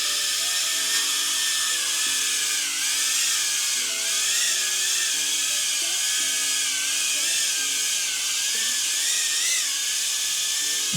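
A Cetus X FPV beginner drone flies indoors, its tiny propellers making a steady, high-pitched whine that rises and falls slightly in pitch throughout, close and continuous with no talking.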